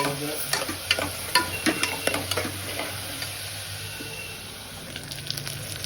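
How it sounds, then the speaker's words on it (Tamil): Chopped onions sauté in a pan for a South Indian mutton kurma, cooking down to red-brown. A steady close sizzle runs throughout, broken by repeated scraping clicks of stirring, with no voices. "வெங்காயம் பார்த்தீங்கன்னா நல்லா வதக்கணும், நல்லா ரெட்டாக ப்ரௌன் ஆகணும்."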